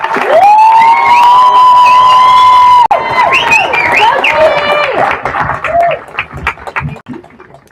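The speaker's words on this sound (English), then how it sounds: "Let's give them a round of applause." Graduation commencement crowd at a college ceremony erupts in loud applause with whistles and shrill cheers rising over the clapping, then the noise gradually thins and scatters toward the end.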